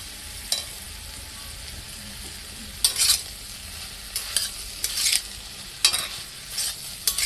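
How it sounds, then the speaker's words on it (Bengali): A spatula stirs lightly fried pumpkin with crushed nuts in a pan, giving soft scraping strokes in irregular bursts over a faint, steady sizzle, close and moderately loud with no talking. "ভালো করে একসাথে নেড়েচেড়ে মিশিয়ে নেব।"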